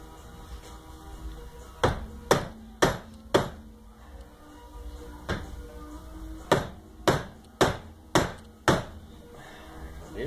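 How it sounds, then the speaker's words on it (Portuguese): A rubber mallet knocks a suspension seal into the fork of a Honda Tornado motorcycle, a series of about a dozen sharp, close blows in irregular bursts with short pauses between groups. "Aí você vem com o martelo de borracha e vai batendo e acertando para ele descer."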